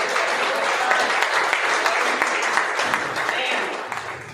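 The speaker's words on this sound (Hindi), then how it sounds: "जोरदार ताली बजाएं हम सब" Audience clapping at a church gathering, a steady wash of applause from many hands filling the room, fairly loud and continuous, with a voice speaking over it.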